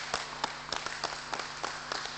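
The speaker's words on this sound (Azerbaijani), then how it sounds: "alqışlayaq ürəkdən Təbrizi" A studio audience on a lottery game show claps for the winner, Tabriz, with brisk, uneven applause of moderate loudness through the whole short stretch.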